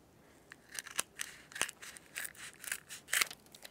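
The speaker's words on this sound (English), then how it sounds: "I'm gonna take the piece of toilet paper roll, and I'm gonna cut it flat" Scissors snip through a flattened cardboard toilet paper roll for a craft project, a run of about ten crisp, close cuts in an uneven rhythm with no talking.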